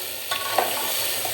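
Whole spices and garlic stir-fried in a hot pan, a steady close sizzle with a couple of scraping stirs across it.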